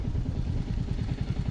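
Royal Enfield Meteor 350 motorcycle engine idling, a steady low thumping pulse close by with a faint mechanical clatter.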